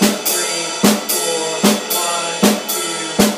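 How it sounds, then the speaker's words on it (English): A drummer plays a skip beat between ride cymbal and snare drum in 7/8 time. Bright, washy ride strokes run continuously, broken by sharp accented hits that repeat in a steady, uneven cycle of about five. "you're going to start doing a skip beat between the ride cymbal and the snare drum"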